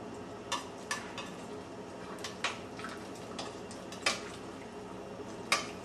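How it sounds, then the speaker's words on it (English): Metal utensil scraping sauce from braised osso buco shanks in a pot, a series of soft clinks and scrapes spaced irregularly, quiet and close. "pull the shanks out and scrape as much of the sauce off that I can"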